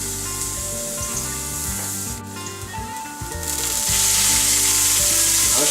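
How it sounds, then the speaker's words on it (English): Garlic and mushrooms stir-frying in oil for a pumpkin soup, a steady close sizzle and scraping rub throughout, growing louder and brighter in the last couple of seconds as more goes into the pan. "we're going to cut that up and stir fry it with a little bit of oil and some salt and pepper"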